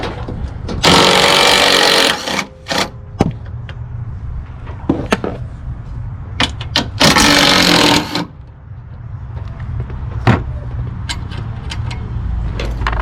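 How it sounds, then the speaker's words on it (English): DeWalt impact gun removing a car's strut bar: two loud, close sustained bursts of rattling hammering with metallic clanks and handling knocks between them over a steady background hum. "So first things first, I gotta take these strut bar off because it's in the way. So anyways, got the DeWalt gun here."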